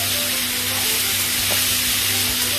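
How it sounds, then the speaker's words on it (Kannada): Prawns fry in hot oil with a constant bright sizzle, broken by occasional soft clinks of stirring, close and fairly loud. "ಆನಿಯನ್ ಫ್ರೈ ಮಾಡಿದ ಕಡಾಯಿಗೆ ಎಣ್ಣೆ ಹಾಕಿ ಈಗ ಪ್ರಾನ್ಸನ್ನು ಅದಕ್ಕೆ ಹಾಕಿದ್ದೇನೆ."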